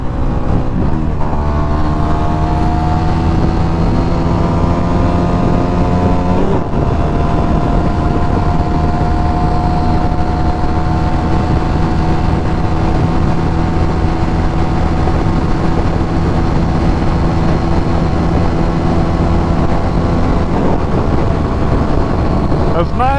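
A dual sport motorcycle engine drones steadily at high revs during a top speed run on a cold day, with loud continuous engine tones and heavy wind rush filling the whole stretch.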